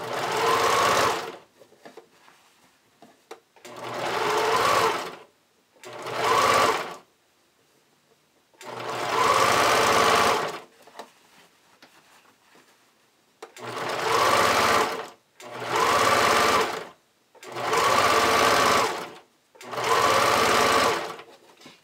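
Sewing machine stitching band elastic onto an Anouk bodysuit in seven close, loud bursts of stitching separated by short pauses, with no talking.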